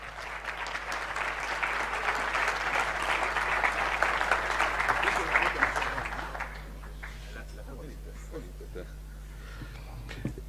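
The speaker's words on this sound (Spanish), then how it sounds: "Martín, un aplauso para él, por favor." An audience at a conference presentation applauds for the introduced speaker, clapping briskly for about six seconds before it quickly fades out, leaving a low steady hum and some faint murmuring.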